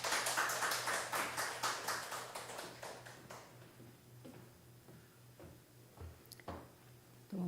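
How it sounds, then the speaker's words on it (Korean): A church congregation claps in a rapid, rhythmic patter for a few seconds to welcome someone, then the clapping tapers off into a quiet room with a few faint knocks and rustles. "네, 박수로 모시겠습니다."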